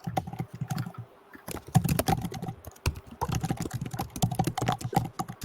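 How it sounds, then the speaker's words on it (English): Someone types on a computer keyboard during an online roundtable discussion, a close, rapid and irregular clatter of key presses with a short pause near the middle and no talking. "Someone is typing."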